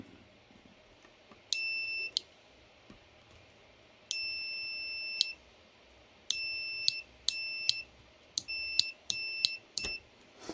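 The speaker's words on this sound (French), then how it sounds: "je vais me mettre en mode bip" A Parkside multimeter in continuity mode emits a series of sharp electronic beeps, several long tones followed by a run of shorter bursts in irregular rhythm, clear against a quiet room.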